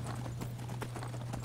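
Horse hooves clop at a quick, steady trot in the Skyrim video game, a rhythmic run of hoof strikes sitting over a constant low hum.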